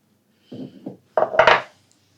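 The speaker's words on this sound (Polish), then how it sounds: "I mieszam." A utensil stirs sauce with dark soy sauce in a bowl, producing two short bursts of scraping and clinking, the second louder and busier, close and clear against silence.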